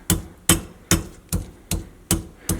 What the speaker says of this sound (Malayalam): പ്രത്യേകിച്ച് ഇഞ്ചി ചതയ്ക്കുമ്പോഴാണ് അതിൻ്റെ ശരിക്കും വെള്ളമൊക്കെ ശരിക്കും പുറത്തേക്ക് വരാം